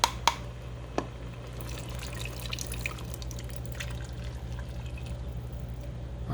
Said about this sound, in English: I'm going to pour this in here now.